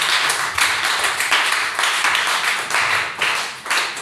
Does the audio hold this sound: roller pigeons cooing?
no